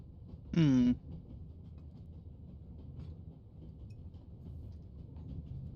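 A train rolls on rails in the video game The Raven Remastered, a quiet, steady low rumble throughout with a brief whistle-like tonal sweep near the start.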